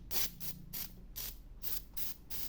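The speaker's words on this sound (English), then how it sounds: "I've run out of paint. Oh my God. Just spraying air now." A nearly empty Tamiya dark yellow spray paint can hisses in a series of short, sputtering bursts, about seven in a row, sounding thin and airy as it sprays mostly air.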